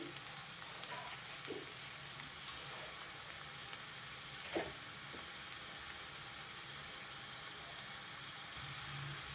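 Onions sizzle in hot oil in a pan with a steady, fairly faint hiss, broken by a couple of brief clicks and taps. No one speaks.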